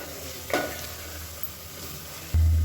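Masala fries in a pan while being stirred, a close sizzle with scraping strokes of a spoon against the metal, then a sudden loud low hum that cuts in near the end.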